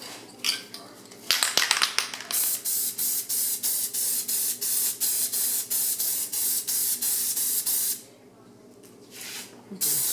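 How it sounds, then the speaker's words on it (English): Rapid repeated short hissing bursts from a can of spray adhesive, sprayed in a quick rhythmic series onto a paper pattern, close by, with a pause before a final longer spray. "I'm going to use some spray adhesive on it."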